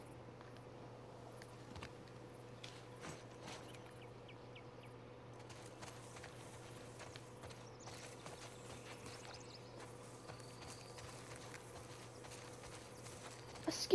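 A horse walks with steady, faint clip-clopping hooves in the game The Last of Us Part 2, set over a quiet ambient background with scattered small noises.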